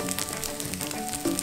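Cooking oil heating in a wok for a stir-fry of wild greens, giving a steady crackling sizzle with no speech.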